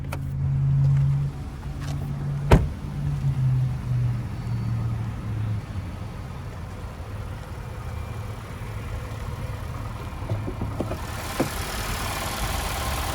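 The 2.5 liter engine of a 2021 Nissan Altima SR runs at idle with the hood open, a steady low hum with a sharp knock early on and faint handling noises.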